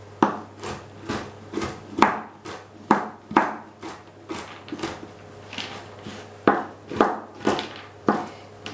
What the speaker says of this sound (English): So, hazelnuts are not easy to chop, Katie